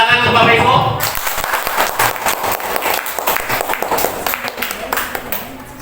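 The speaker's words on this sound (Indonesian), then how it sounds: "Tepuk tangan untuk Bapak Ibu." Audience applause at an in-house teacher training session on the Merdeka curriculum at a junior high school, a dense steady clapping that swells after a spoken lead-in and continues loud and close for several seconds.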